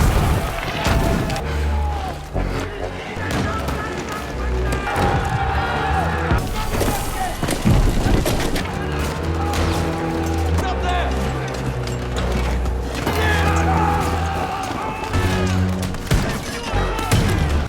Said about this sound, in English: several cannons opened fire on the city